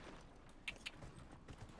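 Antlered horse mount in the video game Dragon Age Inquisition, giving a couple of faint, quick hoof clip-clops over a quiet, low game background.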